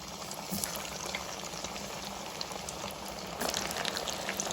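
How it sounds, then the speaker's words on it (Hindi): Kacha keema kebabs frying in hot oil, a steady close bubbling sizzle that runs unbroken throughout with small crackling pops, no voices. "तेल में अच्छे से फ्राई करेंगे।"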